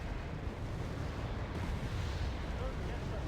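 Rumbling artillery fire in the Wargame: AirLand Battle strategy game, a dense continuous low roar of distant barrages with no distinct individual blasts.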